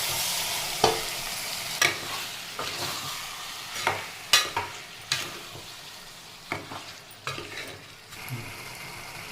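Marinated chicken sizzles in a pan with softened tomatoes over medium flame, while a utensil stirs it and scrapes the pan in irregular strokes and clacks.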